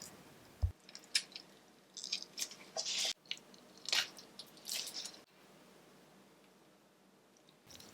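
Chunks of Korean Hanwoo picanha beef being folded and pushed onto a metal skewer at a home camping setup, giving soft, wet squishing and piercing sounds in several short bursts, close and alone, ending in quiet.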